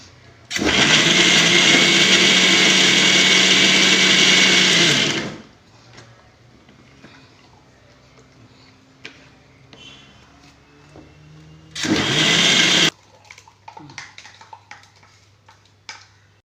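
Onions are ground in a kitchen mixer grinder, with a loud steady motor whine running for about five seconds, then a quiet gap with faint clinks, then a second short pulse of about a second.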